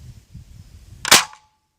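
A vintage overhauled Nerf crossbow fires a glue-dome dart with one sharp, close snap after a few soft handling clicks, and the snap rings out briefly.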